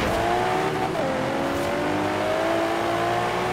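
Engine tones from the Forza Horizon 3 racing game drone steadily as cars race, with a rising and shifting pitch and a dense, constant roar throughout.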